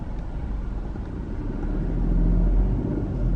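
A car drives along a residential street in San Francisco. Heard from inside, the engine and road rumble stay low and steady and swell a little as it moves on.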